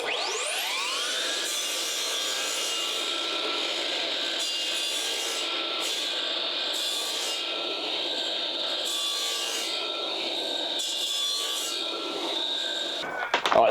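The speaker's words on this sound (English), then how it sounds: "that's going to hold this out further from the miter saw, so it should be able to go through and cut all the way through that jamb." A miter saw slices through a wooden interior door jamb, a steady loud whining cut with continuous high blade tone lasting the whole stretch, ending with a brief clatter as the blade spins down.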